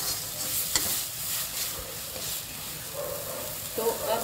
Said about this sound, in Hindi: अब मैं इसको अच्छी तरह से भून लेती हूँ